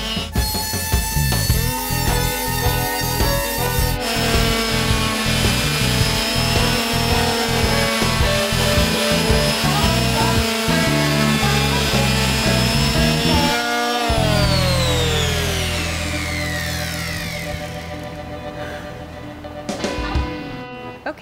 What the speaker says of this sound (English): we finished sanding our shelf